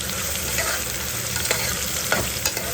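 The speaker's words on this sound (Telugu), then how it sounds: "ఆనియన్స్ యాడ్ చేసుకున్న తర్వాత సాఫ్ట్ అవ్వడానికి కొంచెం కలుపుకుందాం" Onions and green chillies frying in a pan for boti curry, a constant close sizzle broken by a few soft scrapes of a spoon stirring through them.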